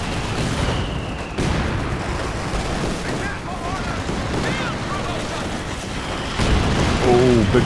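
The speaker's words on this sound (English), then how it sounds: "Oh, big gammon bomb." A gammon bomb explodes amid Company of Heroes 2 battle noise, sharp blasts and gunfire crackling over a steady war din, with a voice talking throughout.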